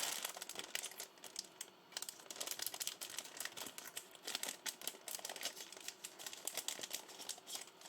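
Scissors snip and crinkle through a plastic bag during a Lego Audi Sport quattro S1 Speed Champions build, a close, quiet string of rapid crackling and rustling with no talk.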